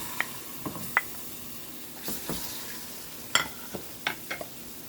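Lamb testicles fry gently in olive oil over low heat, giving faint, sparse pops and soft sizzles with a few quiet utensil taps in a hushed kitchen.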